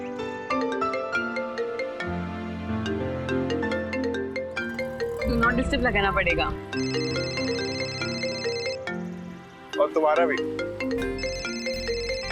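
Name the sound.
mobile phone ringtone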